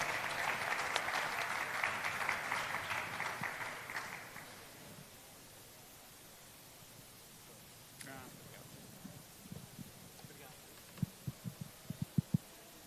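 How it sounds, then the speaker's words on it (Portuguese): Audience applause at an event on disability and inclusion law, a steady dense clapping for about four seconds that then stops, leaving a quiet room with faint thumps and a few soft sounds. "uma salva de palmas"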